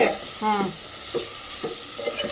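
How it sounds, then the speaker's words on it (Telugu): Cucumber pieces with tomato frying in a pan for a curry, a steady sizzle under a few short scraping stirs, close by, with a faint voice-like sound early on. "ఇప్పుడు దోసకాయ ముక్కలు వేసుకుంటే"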